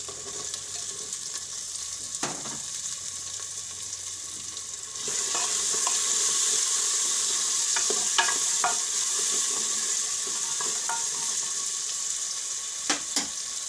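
Potatoes and mixed vegetables sizzle steadily in a hot pan for cracked wheat vegetable khichdi, a continuous frying hiss that grows louder midway, with occasional stirring scrapes and clinks.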